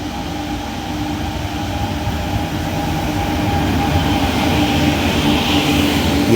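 Pune–Kanniyakumari Express, hauled by an Erode-based WP7 locomotive, rolls into a station platform with a steady, loud rumble of rail wheels and carriages that builds slightly as it approaches, no voices.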